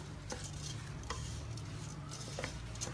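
A spoon stirs rice seasoned with spices and a chicken stock cube in a pot, with soft scraping strokes and a faint sizzle, quiet and close, with no talking.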